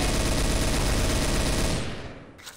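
Heavy, continuous automatic gunfire in the multiplayer shooter game Trouble in Terrorist Town, a loud dense barrage that holds steady for about two seconds, then cuts off and fades quickly.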